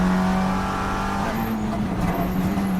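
TCR touring race cars at the Australian Grand Prix, a steady loud engine drone from close by with a sustained low tone as cars head into a heavy braking zone, no talk over it.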